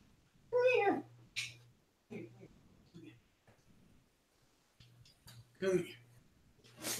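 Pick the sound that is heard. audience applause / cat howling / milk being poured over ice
cat howling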